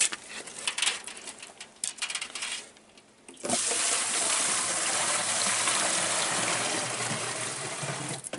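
Water from a holy spring begins to gush and pour in a steady, fairly close broadband rush after a few seconds of faint outdoor clinks and birdlike chirps.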